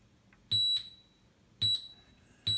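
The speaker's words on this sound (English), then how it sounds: "A much more high pitch beep." Three sharp, high-pitched electronic beeps from a Zaxxon arcade board's sound circuit during an audio test, each short and clean, spaced about a second apart against near silence.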